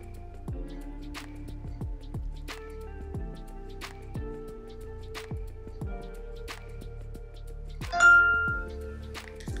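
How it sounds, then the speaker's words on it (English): The power-on chime of an iPhone 14 Pro Max rings once late in the clip, a clear ringing tone over gentle, continuous background piano music. "play sound when iPhone is turned on and off"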